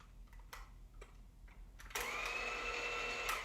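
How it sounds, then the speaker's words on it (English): A hand mixer fitted with its bread hook attachment switches on for mixing nut butter, jumping from quiet clicks and handling taps into a steady, whining motor hum that runs evenly to the end. "Okay, we test it to make sure that it's gonna work"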